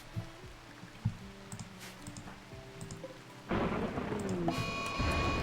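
Rain and thunder from a flash storm in the video game RimWorld: quiet game ambience with low rumbles, then a loud surge of steady rain hiss with bright beeping tones joining near the end.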